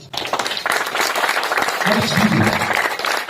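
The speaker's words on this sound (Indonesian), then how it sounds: "Tepuk tangan dulu." An audience at a talk on Pancasila and Islamic teaching breaks into applause. Dense clapping is mixed with voices rising underneath, and it stays loud and continuous throughout.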